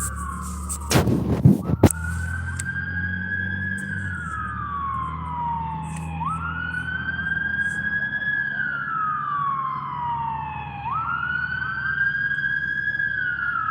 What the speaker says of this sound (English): That is a weird alarm for an ambulance